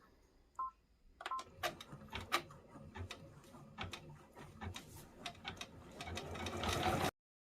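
An embroidery machine stitches an appliqué football in white thread, starting with a few beeps and soft clicks, then settling into a quick, rhythmic mechanical chatter of needle strokes that grows steadier and louder before stopping sharply.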